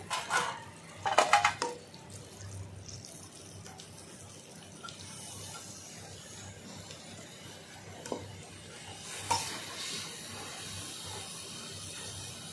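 Shredded cabbage is tipped into a pan of frying prawns, giving a few quick clattering bursts and then a quieter, steady hiss of steam and sizzle with no talking.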